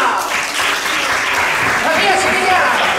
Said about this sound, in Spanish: Quiero pedir un fuerte aplauso para Chiquilla